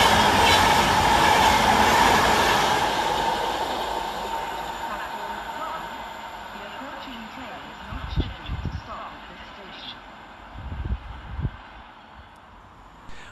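Class 91 locomotive 91106 hauling a passenger train past Outwood station, a loud rushing roar that fades as it passes, followed by quieter rumble with bursts of wind buffeting and some talk.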